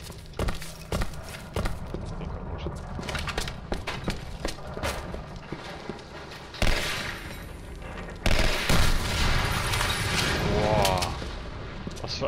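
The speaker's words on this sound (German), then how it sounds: "Eine Explosion!" Explosions and bursts of gunfire in the PC game Legendary crack through a busy soundscape, with sharp repeated blasts and a big boom toward the end.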